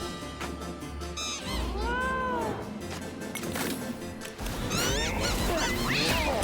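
A cat meows repeatedly in the video game Don't Die, Minerva!, the cries rising and falling over busy game music and effects, fairly loud and close.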